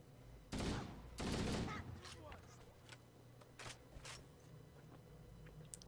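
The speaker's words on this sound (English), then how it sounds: "I'm pretty sure he's actually shooting at me with that needle as well" Rapid bursts of Halo CE gunfire, needler shots in the mix, two loud close volleys near the start, then scattered quieter shots and clicks, with a voice talking over parts of it.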